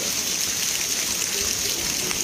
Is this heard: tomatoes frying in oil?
no